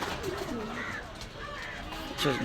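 Pigeons in a shop give low, throaty coos close by, overlapping with someone talking and steady room noise.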